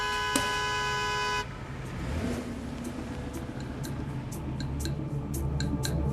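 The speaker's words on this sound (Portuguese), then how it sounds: "um outro carro passa por ele e começa a buzinar sem parar" A car horn blares in one long sustained honk, then cuts off, leaving a car's engine rumble and faint ticking close by.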